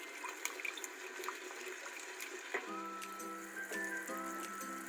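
Water is poured into a cooking pot holding red chillies and turmeric, a faint trickle that turns into a fuller, ringing pour partway through, with no voices.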